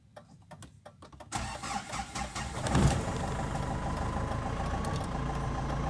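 A Mahindra Scorpio pickup with a power-lag problem is started: a few soft clicks, then a sudden cranking surge that catches into a loud, steady idle nearby.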